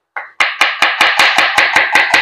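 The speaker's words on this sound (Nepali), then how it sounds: "अब चाहिँ म अब प्याज कटिङतिर लागेँ है अब प्याज कटिङ" A knife chops onion on a board in a brisk, even run of about nine sharp, close knocks, each one loud and crisp, following a softer first touch.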